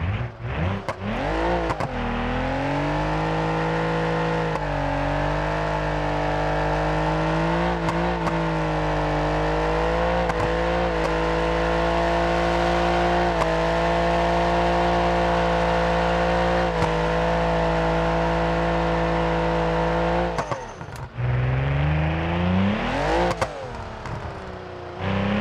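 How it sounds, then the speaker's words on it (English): Twin turbo V6 DeLorean engine in BeamNG.Drive revving loudly and steadily, a continuous close drone held for about twenty seconds that briefly drops away, then surges back with rising revs near the end. "Twin turbo V6 DeLorean."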